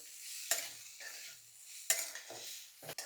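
A spoon scrapes and stirs cooked moong dal through spiced food in a pan, in a few separate strokes with a light sizzle underneath.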